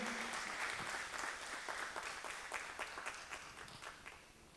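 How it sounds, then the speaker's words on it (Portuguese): Congregation clapping for Jesus at a Portuguese-language praise and worship service, dense applause that thins into fewer, distinct claps as it fades out over several seconds, with no talk. "Aplauda Ele com alegria."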